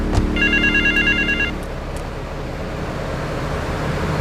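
An in-game telephone rings in Grand Theft Auto III, a loud electronic double bell lasting about a second and a half over a steady bed of city traffic rumble.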